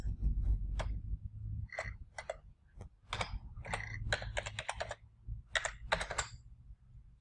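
Keys on a computer keyboard clatter in short irregular bursts as a name and password are typed to sign in, close and fairly quiet with brief pauses between groups of presses, no voices.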